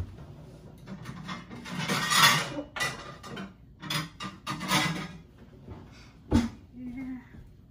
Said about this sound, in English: I'm gonna grab spoon and grab something here.